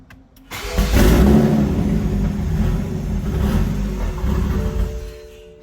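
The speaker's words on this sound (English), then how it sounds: "I got the car to start last night" A turbocharged Toyota MKV Supra running pump E85 cranks and fires after a brief quiet moment, then settles into a loud, rough idle with blips of revving that hold steady for several seconds before fading slightly.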